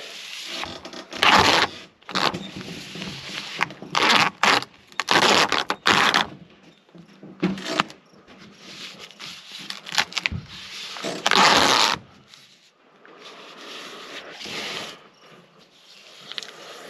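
ZIP System flashing tape is pressed over window framing and rolled down, giving close, repeated bursts of sticky crackling, ripping and scraping with short pauses between strokes and no talk.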